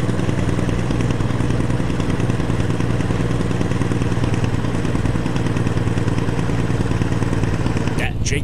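A heavy truck's Jake brake in American Truck Simulator gives a loud, steady, close rumble of engine braking with a throaty low pulse that holds throughout.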